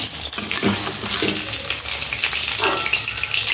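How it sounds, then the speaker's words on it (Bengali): Pieces of katla fish, marinated in ginger and garlic, sizzle and crackle steadily in hot oil in a pan, a continuous close frying hiss with occasional stirring noises. "জাস্ট দেখুন একদম হালকা করে এটা ভেজে নেবে।"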